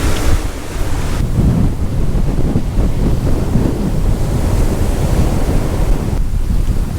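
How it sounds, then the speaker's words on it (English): Hurricane-driven ocean waves, some 10 to 12 feet high, crash onto a Florida beach at Lantana, with strong wind buffeting the microphone in a steady, loud roar of surf throughout. "there's like 10 feet, maybe even 12 feet waves so high"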